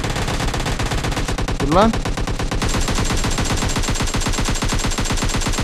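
An Uzi submachine gun fires in PUBG Mobile Lite, unloading a fast, continuous rattling burst up close that carries on without a break while someone shouts briefly over it.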